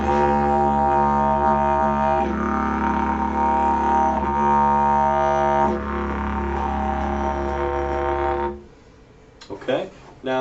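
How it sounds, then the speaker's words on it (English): A didgeridoo drone played with vocal overtones, a loud, steady, buzzing low tone with shifting harmonics for about eight seconds before it stops, followed by a few faint knocks. "So through the didge it sounds like this"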